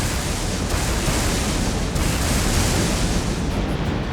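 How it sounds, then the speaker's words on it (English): In the Ace Combat 7 flight game, an enemy supply ship explodes during mission 17, giving a loud, sustained roaring blast with a deep rumble that holds for several seconds. "Did you see that explosion? Looks like that's one of them down."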